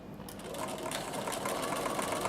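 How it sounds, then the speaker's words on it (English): A Bernina sewing machine stitches a quarter inch seam in a steady, fast mechanical whir with rapid needle chatter, close and fairly quiet, running alone without talk. "So I'm just going to do a 1/4 inch seam right here."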